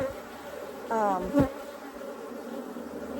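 A honey bee buzzes past close up during a hive inspection of a newly arrived swarm, a brief rising whine over a quiet outdoor background.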